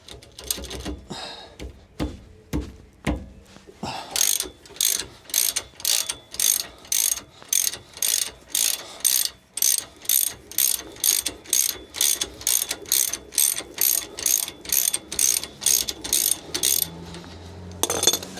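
A ratchet wrench drives a 14 spline socket on VW Crafter suspension bolts, starting with a few slow separate clicks and then breaking into a long, steady run of sharp, close ratcheting bursts.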